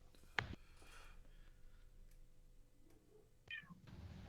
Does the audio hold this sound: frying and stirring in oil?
no